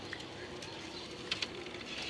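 Pigeons kept in a cane loft coo softly over a steady background hiss, with a few faint higher calls and a couple of brief louder notes near the middle.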